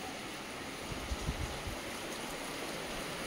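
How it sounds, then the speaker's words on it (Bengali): Heavy wind-driven rain pours down in a dense, continuous wash of hiss and splatter with low gusty rumbles, steady and close with no voices. "হাওয়া দিয়ে বৃষ্টি হচ্ছে"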